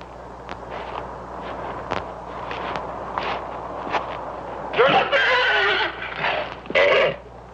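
A horse in an old Hollywood film whinnies loudly in two bursts near the end, after a stretch of quieter clopping and rustling sounds.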